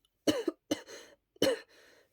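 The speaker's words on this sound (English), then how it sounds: "He wiped it away and coughed into his hands." A man coughs into his hands in a few short, muffled bursts, close and fairly quiet, with a throat-clearing quality and brief pauses between them.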